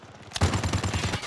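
Gunfire rings out in the mobile shooter Call of Duty Mobile during a prop hunt match. After a quiet start, a rapid burst of shots sounds close and loud in a quick, even rhythm.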